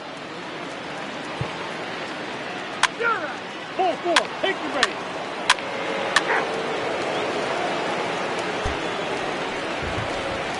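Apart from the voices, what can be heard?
rain falling in a baseball video game (MLB The Show 21)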